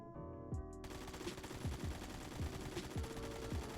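AKM rifle fitted with a compensator in Phantom Forces, firing a steady stream of loud, closely spaced shots after a brief pause, each report punchy with a low thump, repeating evenly for several seconds.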